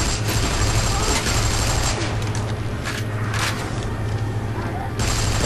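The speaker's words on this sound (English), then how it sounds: "Actually, I'll just shoot him." Gunfire in the co-op shooter Army of Two: The Fortieth Day, heard as a steady stream of shots and impacts under continuous game noise and a low hum, with someone talking over it.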